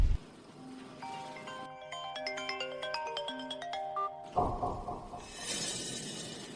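Telephone ringing on an outgoing call, a melodic electronic ringtone playing a tune of clear stepped tones, framed by a brief knock at the start and a burst of broadband noise near the end.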